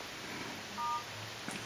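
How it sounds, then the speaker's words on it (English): Dialer keypad tones on a Samsung Galaxy S2 running a CyanogenMod 11 KitKat build, a brief quiet tone pair near the middle of an otherwise hushed moment. "You can dial phone number or whatever it is."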